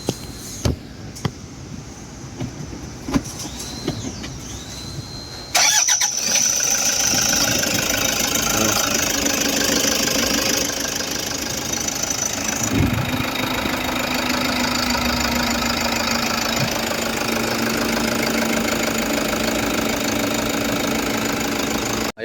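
A Toyota HiAce engine with an EGR fault and check-engine light runs steadily, a loud continuous idle with a knocking edge. It starts after a few seconds of quieter workshop noise and continues without speech.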